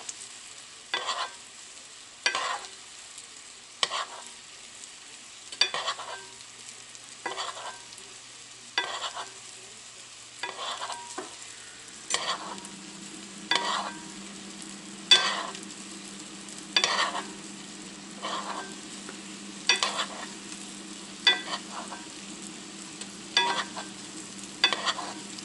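Butter browns in a pan for a brown butter trout sauce, with a steady sizzle and a run of regular, evenly spaced scraping strokes that keep going throughout, fairly close and moderately loud.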